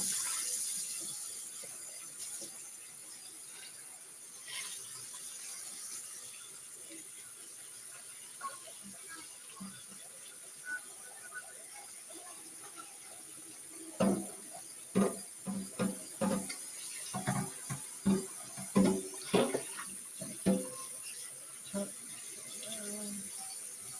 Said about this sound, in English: I'm going to rinse this pan.